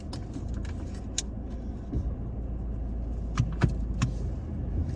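A Toyota Tacoma truck drives off road in four-wheel drive through Florida's Green Swamp, a steady low rumble of engine and tires with scattered rattles and clunks, some sharper knocks toward the end.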